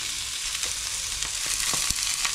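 Bonito fish sizzles and crackles steadily in a hot pan, with a constant close frying hiss and scattered small pops.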